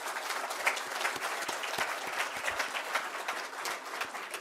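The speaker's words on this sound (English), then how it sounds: "you might give them all a round of applause as well" Fairly quiet but dense applause from a lecture audience at an international history conference, an even patter of many hands clapping throughout, with no one speaking over it.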